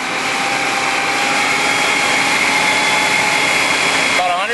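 A fire engine pump engine runs hard and steady while drafting water, a loud continuous droning roar that holds throughout with a slight shift near the end.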